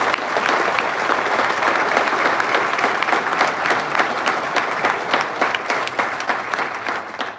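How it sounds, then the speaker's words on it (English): A crowd at a baseball statue ceremony claps steadily for a coach, a dense, sustained round of applause that holds strong before easing slightly toward the end. "I would love it if everybody gave Coach Baird a round of applause"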